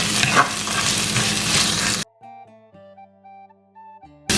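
Pandan, curry leaves and green chillies sauté in a pan for fish curry, giving a close, busy sizzle for about two seconds before it cuts to near silence with a faint tonal background, then the sizzle returns briefly.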